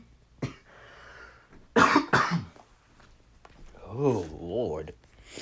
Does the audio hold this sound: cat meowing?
no